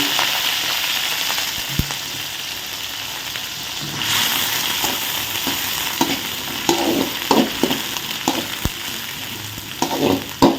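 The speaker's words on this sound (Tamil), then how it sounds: "முக்கால் பதத்துக்கு வந்த உடனே நம்ம ஆனியன் போட்டுறணும்" Onions fry in a pan of spiced oil for biryani, giving a steady close sizzle with intermittent scraping and clattering from stirring.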